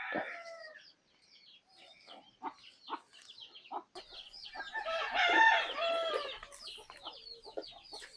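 Native Indian country chickens cluck repeatedly, with one hen breaking into a louder, drawn-out squawk midway before settling back to softer clucks.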